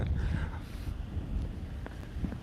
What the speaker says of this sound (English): It's a little windy here today at Red Morton Park.